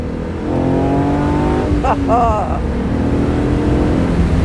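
A 1971 Fiat Dino 2400 Spider sports car engine runs steadily while driving, then briefly revs with a rising whine partway through; a voice utters a short word.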